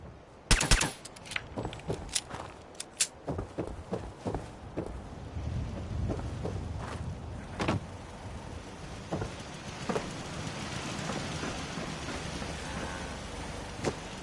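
Gunfire in the video game Fallout 4: a cluster of sharp, loud shots near the start, then sparser scattered cracks over a steady, rain-like background wash, with no talking.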